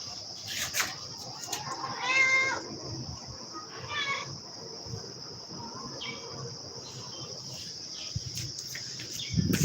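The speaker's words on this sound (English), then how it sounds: "the cat is being the cat" A cat meows a few times at moderate distance in a dim evening room, its calls rising over a steady high insect-like hiss and low background rumble, with a louder stir near the end.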